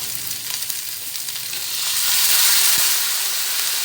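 Soy sauce poured into a pan of fish chilli garlic masala sets off a loud, steady sizzle of frying that swells and grows hissier partway through, with no voices over it.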